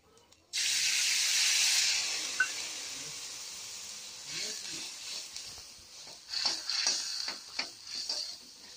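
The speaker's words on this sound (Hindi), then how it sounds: "पहले जीरे को भून लिया है, फिर उसके बाद डाला है मसाला" Cumin and masala roast in a hot pan with a sudden loud hiss that settles into steady sizzling, broken by crackles and pops, close by.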